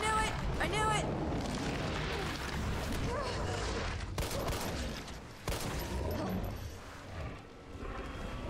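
Gunfire in the Resident Evil 3 Remake video game, a dense, continuous barrage of shots and blasts with game effects, while a player talks excitedly throughout.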